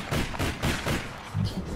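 Gunfire in a shooting video game, several thumping shots in an uneven burst, fairly close and moderately loud, with no speech over them.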